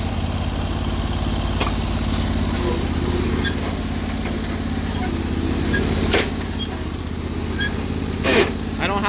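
Sears Suburban loader tractor engine running steadily in low range reverse, a loud continuous close-up drone with a few faint clicks and knocks over it.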